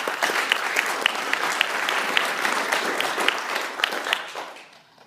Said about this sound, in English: Let us give a round of applause for Mr. David Bruhan.